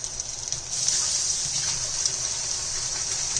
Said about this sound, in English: We're going to add just a little bit of water,